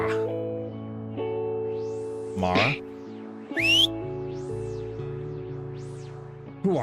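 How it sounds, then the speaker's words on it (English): Whistling in the medieval video game Felvidek, a few rising and falling whistled tones over a steady game music bed, with character voices speaking around it. "Who art ye whistling at, sod?"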